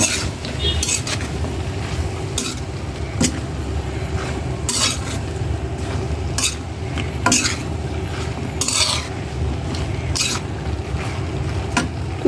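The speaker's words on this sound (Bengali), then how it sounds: "আমি একটু নাড়াচাড়া দেবো" Vegetables stirred in a pan while cooking, with repeated metallic scrapes and clinks of a utensil over a constant low sizzle and hum, close and steady, no talking.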